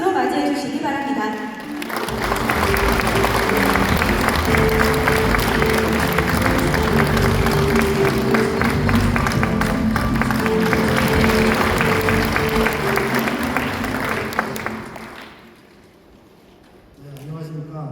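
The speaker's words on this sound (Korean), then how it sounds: "이사장님을 무대로 모실 때 큰 박수로 맞이해 주시기 바랍니다." Audience at a Korea Maritime Transportation Safety Authority ceremony clapping as the chairman is welcomed to the stage, steady loud applause with a music-like tonal bed underneath, ending in a near-silent pause before a voice resumes.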